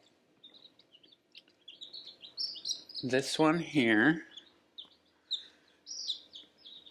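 Newly hatched baby chicks, twenty in a brood, peeping in high, short chirps scattered throughout, close and soft, while a person speaks briefly over them in the middle.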